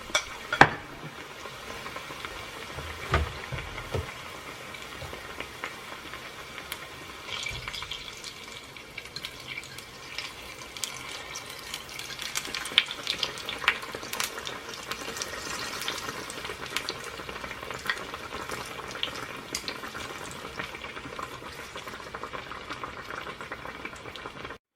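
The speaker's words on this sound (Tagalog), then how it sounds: "Start to fry it for 2 minutes in a medium heat." A strawberry sandwich dipped in batter frying in oil over medium heat, a steady, moderate bubbling sizzle close by, continuous throughout with occasional clinks and stirring sounds.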